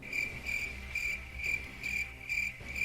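Crickets chirping in a steady, even pulsing rhythm of bright trills, close and clear over a low hum, with no talk.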